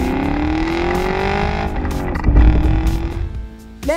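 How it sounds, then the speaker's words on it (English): A Chevrolet Camaro SS V8 engine revs hard, its loud note climbing steadily through the rev range before dropping off and briefly flaring again at the end, with no talking over it. "this engine pulls like a mule from idle to redline, all while making glorious noises"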